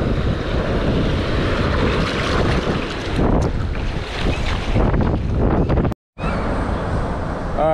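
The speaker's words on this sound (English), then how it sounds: "it's getting a little windy" Strong wind buffets the microphone on a beach near Corpus Christi, Texas, in a steady, loud roar, with a brief dropout near the end and faint surf beneath.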